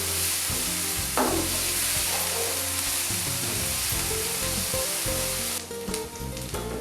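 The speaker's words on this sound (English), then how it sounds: "fry your onion, ginger and garlic until it is nice and brown. Keep stirring from time to time" Onion, ginger and garlic fry in a pan with a loud, steady sizzle, while a spoon stirs and scrapes in irregular strokes; the hiss shifts toward the end as the food is moved.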